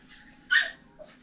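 An agitated dog whimpers and fusses indoors, with a short, loud, high whine burst in the middle and softer whining before and after. No one speaks.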